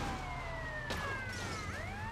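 Police car siren in the video game GTA Vice City, a wailing tone that sweeps up and down over a steady background hum of game traffic, fairly faint and with no talking.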